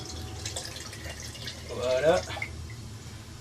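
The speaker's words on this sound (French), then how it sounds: "ici dans le bas un petit robinet qui vous permet de récolter ce fameux or" Liquid fertilizer trickles and drips from the small tap at the bottom of a worm composter, a short, faint watery burble while a person speaks over it.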